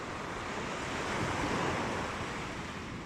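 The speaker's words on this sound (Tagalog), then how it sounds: "Kasi malakas yung dagat." Strong sea waves at an island shore make a continuous, loud, rushing surf wash, swelling slightly in the middle and mixed with wind buffeting the microphone.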